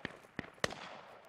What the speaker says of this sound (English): Grenading over the hill.